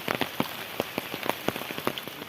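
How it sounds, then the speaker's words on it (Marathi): Heavy monsoon rain pours down near a flooded river, drops pattering in a dense, irregular stream of sharp close taps over a constant hiss. "पावसाचं एवढं जोराचं म्हणजे खतरनाक वातावरण झालंय।"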